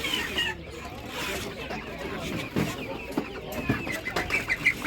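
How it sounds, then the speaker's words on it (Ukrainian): Hens and roosters cluck at an open-air market, with scattered clucks and a brief flutter of wings mixed into crowd noise while people talk nearby. "Видно і курочка, і півник."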